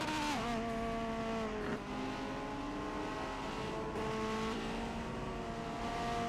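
Race cars, including a Lamborghini, in an '80s-era racing video game, with loud, continuous engine whine and shifting pitch as the cars accelerate and change gear, plus a brief tire squeal, with no voices.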